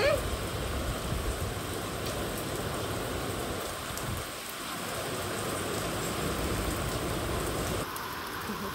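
Steady, heavy rain pours down outdoors in a dense, loud, unbroken hiss that barely changes from start to finish.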